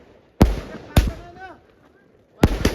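Firecrackers at a village birthday celebration go off in loud, sharp bangs: two close together, then a third after a pause, each with a short crackling tail, while people talk between them.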